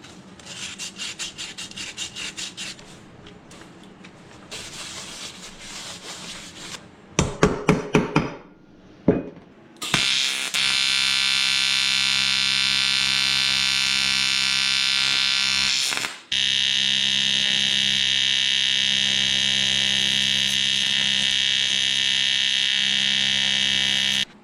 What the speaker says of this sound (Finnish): seuraavaksi mä hitsaan tämmösen alumiinipalan tähän keskelle.